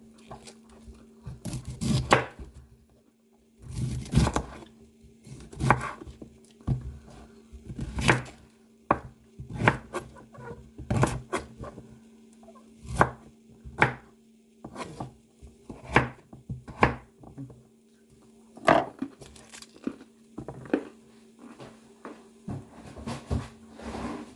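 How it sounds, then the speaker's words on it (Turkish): A knife chops cauliflower stalk and Brussels sprouts on a board in irregular bursts of sharp close strikes, with short pauses between them and a faint steady hum underneath. "bu kadar da Brüksel lahanası kızlar temizledim"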